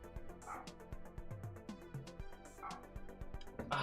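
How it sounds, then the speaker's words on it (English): A dog barks repeatedly in short, sharp yips with brief whimpers between, fairly close, with rhythmic thumping tones underneath. "Oh, can you hear my dog barking?"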